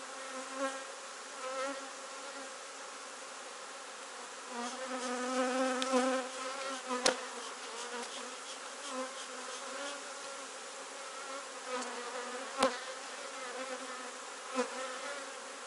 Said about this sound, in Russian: Пчелки на выходе.